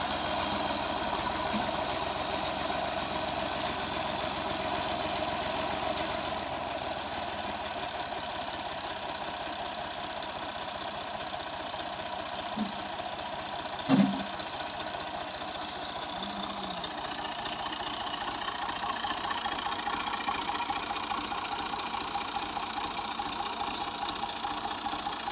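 A Massey Ferguson MF 135 tractor engine idles steadily, a low even mechanical drone held for the full length with one brief louder knock partway through.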